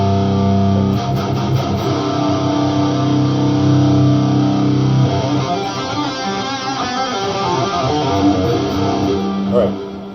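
An electric guitar played through a distortion effect for a song, thick sustained chords ringing loud and continuous, then shifting into busier picked passages with steady heavy saturation throughout.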